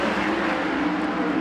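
Sprint race cars power out of a speedway corner under a green flag at an Arizona Speedway ASCS Southwest heat, a dense continuous engine roar held steady and loud throughout with no gaps.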